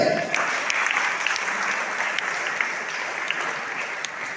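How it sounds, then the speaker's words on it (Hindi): Hearty audience applause at a community meeting, a dense, even patter of many hands clapping at once, sustained and moderately loud throughout. "एक जोरदार ताली फिर से"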